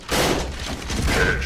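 A dense burst of rapid gunfire in the Contra City shooter game, loud and close, forming a continuous rattling volley that lasts about a second and a half, with no talk.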